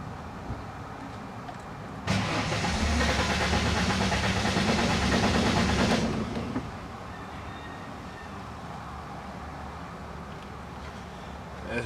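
A Mustang that won't start cranks on ignition as the fuel pump switches on: roughly four seconds of steady, loud whirring churn rising out of a low background hum, then cutting back to the hum.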